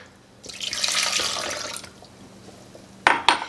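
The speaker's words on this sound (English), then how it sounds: "To that, we are going to add 1 cup of water." A cup of water is poured into a food processor while making cranberry mustard, a close, bright splash lasting over a second, followed by two sharp knocks.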